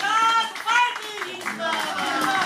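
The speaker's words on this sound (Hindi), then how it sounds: "ताली बजाते रहिए ना, जिससे माला पड़ रहा है" A crowd claps at a Nishad Party political rally in Maharajganj. Steady applause runs under loud, chant-like voices throughout.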